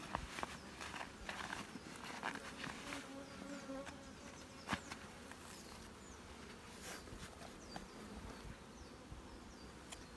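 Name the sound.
honeybees buzzing in an open hive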